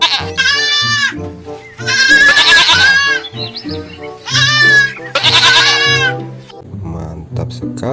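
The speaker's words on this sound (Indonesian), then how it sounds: "ini hewan kambing teman-teman" Several loud, drawn-out goat bleats come in bursts close to the microphone, with shorter nasal calls and low rumbling in between.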